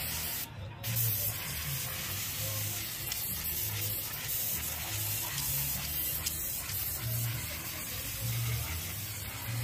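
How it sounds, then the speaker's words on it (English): Brake cleaner sprays into the inside of a car oil pan during a Honda S2000 oil pan replacement: a steady, moderately quiet hiss that runs continuously, with a brief sharper burst near the start. "grab some brake cleaner and just clean the inside of it. Let it just run down and just clean it."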